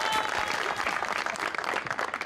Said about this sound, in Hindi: ख़वातीन और हज़रात, आपकी भरपूर तालियों में हमारे मेहमान खुसूसी।